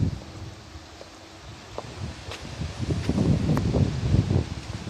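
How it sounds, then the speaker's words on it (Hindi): Sea wind blowing across Shati Al Qurum beach in Muscat, a steady broadband rush with soft gusty rustling that builds louder toward the end, with no talk. "हवा चल रही है समंदर पे"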